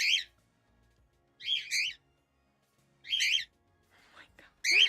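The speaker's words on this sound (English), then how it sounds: "Birds make me laugh." Pet birds squawking indoors, three loud harsh bursts separated by pauses, with softer chatter before the last burst.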